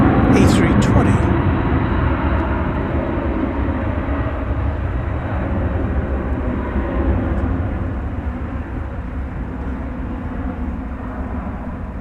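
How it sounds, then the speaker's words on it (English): A Delta Airbus A320 arriving from Minneapolis–St. Paul at DFW Airport at night, a steady broad engine roar held close and loud throughout, with voices talking over it. "we're going to be seeing a Delta Flight 866 coming in from Minneapolis, St. Paul on an Airbus"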